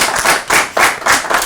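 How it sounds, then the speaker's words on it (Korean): Applause from a lecture audience for a visiting professor after a philosophy colloquium, clapping in three or four swelling bursts that rise and fall, loud and close, with no talk. "큰 격려의 박수 부탁드립니다"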